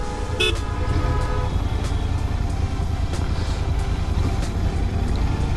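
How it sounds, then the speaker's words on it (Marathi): A train passes a railway level crossing, opening with a brief horn toot followed by a loud, steady rumble that fills the whole stretch. "ट्रेन गेली."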